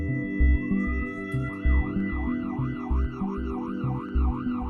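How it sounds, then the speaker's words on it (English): A cardiac ambulance siren wails in a steady, repeating up-and-down sweep, loud and continuous, over a pulsing low rhythmic bed. "your cardiac ambulance has arrived"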